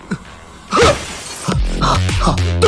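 Glass window shattering in one sharp, loud burst as someone breaks out through it, followed by voices talking in an indoor comedy scene.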